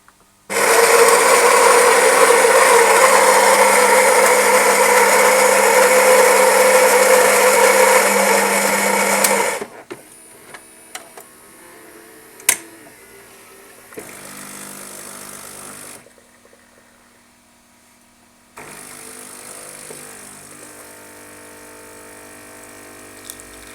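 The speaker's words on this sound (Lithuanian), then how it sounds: "Pasistatome didesnį kavos puodelį ir dabar jau spaudžiame vidurinį mygtuką" A Saeco Lirika Plus automatic coffee machine grinds beans and then brews a cup of black coffee: a loud, steady mechanical grinding roar for about nine seconds, followed by quieter pump whirring and hissing with brief pauses, no voices.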